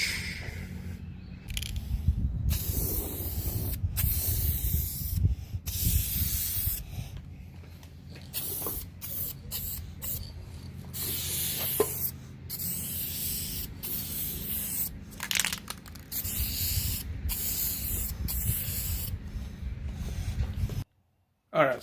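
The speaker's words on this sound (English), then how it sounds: "we've got the first coat of the Wrinkle Black sprayed on the valve covers" Long hissing blasts from a can of VHT Wrinkle Plus black spray paint coating engine valve covers, repeated in bursts with brief pauses, close to the microphone.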